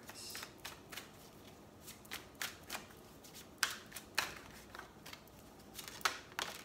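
A deck of oracle cards is shuffled by hand in a quiet room, giving a series of soft riffling flutters and crisp slaps of card edges, irregular and close, with no talking over it.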